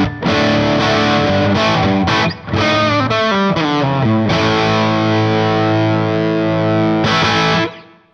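An Epiphone Jared James Nichols Signature Old Glory Les Paul with its pole pieces raised plays a loud distorted riff of chugging palm-muted notes and quick runs, ending on a ringing sustained chord.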